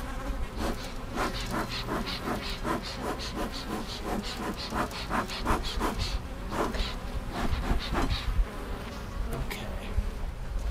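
Honeybees buzz close around a hive during winter preparations, a dense, steady swarm drone with individual bees repeatedly zipping past near the listener.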